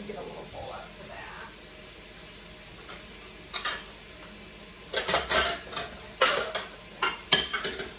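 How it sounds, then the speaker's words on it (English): A small bowl being fetched in a home kitchen, heard as a burst of close clattering and clinking of dishes and ceramic knocking together, preceded by quieter rustling and a brief tap. "Let me get a little bowl out for that."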